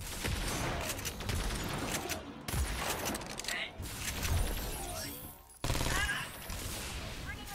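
Gunfire in the Agents of Mayhem video game bursts in rapid automatic volleys with a few crashing impacts, loud and close, pausing briefly between clusters while voices talk over the action.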